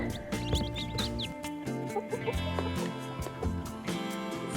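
Small chicks peep in rapid high chirps while chickens on a Finnish homestead cluck in short low bursts, a busy steady chorus close by with no talking.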